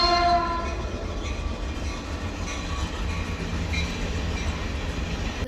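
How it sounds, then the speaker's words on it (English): A train rumbles past nearby with a steady clattering roll and a sustained horn blast at the start, the noise holding loud and even throughout. "A train is coming by."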